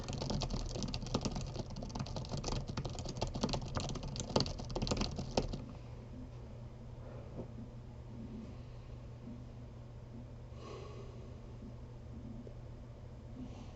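Fast typing on a computer keyboard during a 10fastfingers speed test, a dense rapid clatter of close keystrokes for about five seconds. Then it drops to faint sparse taps over a low hum.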